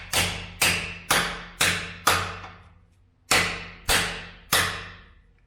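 A hammer drives a screwdriver into a slot cut in a monster truck axle to open a crack, eight sharp metallic blows in an even rhythm, a short pause after the fifth, each ringing briefly before the next.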